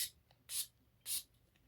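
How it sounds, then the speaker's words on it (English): Two short hissing bursts from a large perfume atomizer spraying a Sakura fragrance, evenly spaced about half a second apart, close and fairly quiet with no talk. "I'm going to spray this once. I'm going to spray this twice just because the atomizer is so big on this."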